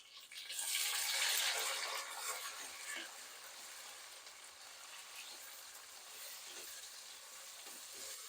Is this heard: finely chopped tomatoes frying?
yes